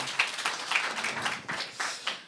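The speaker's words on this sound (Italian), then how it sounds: "noi gli facciamo un grande applauso" Audience applause in an Italian talk event hall, a steady wash of many hands clapping at moderate distance, sustained throughout without talk.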